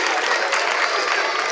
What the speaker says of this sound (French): Est-ce qu'on peut encore l'applaudir?